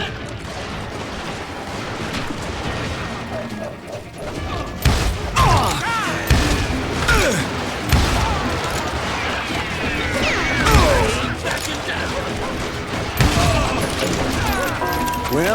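Gunfire and crashing impacts in the western shooter game Call of Juarez: Gunslinger, with loud shots and thuds scattered across the clip over a continuous bed of game sound and effects.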